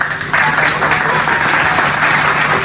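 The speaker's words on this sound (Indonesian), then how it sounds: "tepuk tangan untuk Bang Sumar." Loud, dense audience applause at a company presentation, many hands clapping steadily and close for a few seconds with no talk over it.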